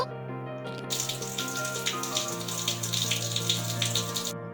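Water pours steadily onto flowers in an animated bird cartoon, a continuous splashing stream lasting several seconds and layered over sustained background music.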